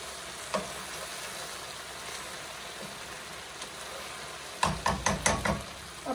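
Food frying in a pan at home, a soft steady sizzle through most of the moment, then a burst of louder sputtering crackles near the end, with no one talking.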